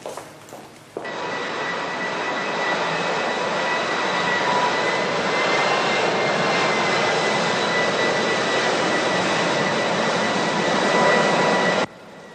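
Airplane engines roar with a steady, loud, continuous jet drone for about eleven seconds before cutting off abruptly, with no talk over them.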